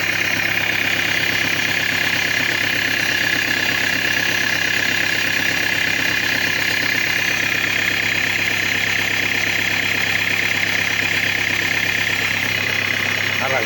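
A Peugeot Boxer 2.8 HDI diesel van engine idles close and loud just after starting, a steady, even clatter that holds for the whole stretch.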